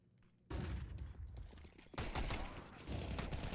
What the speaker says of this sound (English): A lot of shots going through the smoke.